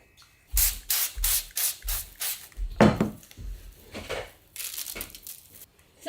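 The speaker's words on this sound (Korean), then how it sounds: "스프레이를 갖고 뿌려볼게요." Several quick hissing bursts of a spray bottle misting oil onto dried laver sheets lifted slightly off the counter, in a rapid uneven rhythm, close and fairly loud with no talking.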